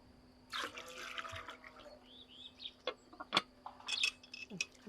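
Water being poured in a home in a remote mountain village: splashy bursts of liquid over about a second, followed by scattered clinks and light knocks, close by and fairly quiet, with no talk.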